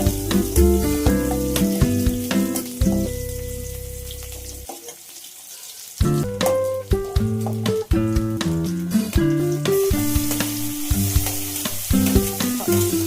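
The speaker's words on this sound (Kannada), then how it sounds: "ಈರುಳ್ಳಿ ಹಾಕಿ ಫ್ರೈ ಮಾಡಿಕೊಂಡು" Chopped onions sizzle and crackle in a pan on a home kitchen stove, with a steady frying hiss partly masked by louder background music.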